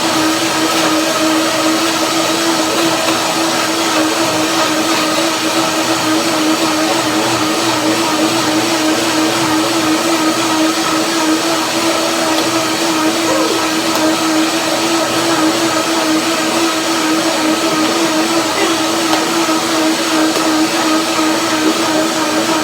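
Blender whirring at high speed through buckwheat, apples, macadamia and water, a loud, steady motor roar that runs unbroken and unchanged the whole time.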